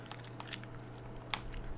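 Hard candy being bitten and crunched up close, a few sharp, brittle cracks scattered over a faint, quiet background, with one louder crunch near the end.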